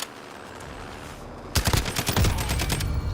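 Rapid automatic gunfire in Call of Duty Warzone erupts after a quiet opening, a dense burst of loud overlapping shots that keeps going to the end.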